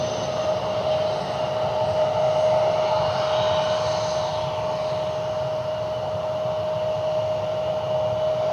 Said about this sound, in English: Learjet inbound.